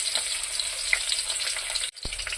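Chopped onion and spices frying in hot oil for a vegetable parotta salna, a steady close sizzle that cuts off briefly near the end before resuming.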